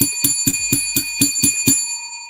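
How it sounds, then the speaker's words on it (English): A small, bright bell rung in a quick, even burst of about eight strikes, close and loud, with no other sound. "Let's ring the bell to free Kyle Pitts."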